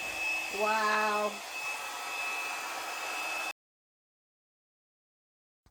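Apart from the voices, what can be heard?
blow dryer blowing acrylic paint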